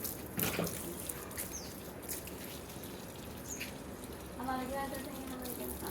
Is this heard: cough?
no